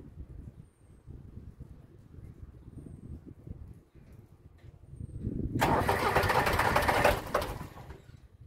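An old 1962 Esslingen DZ10 tractor with an OM636 diesel engine cranks and catches, bursting into a loud rough run that settles and fades after a few seconds of quieter low rumble.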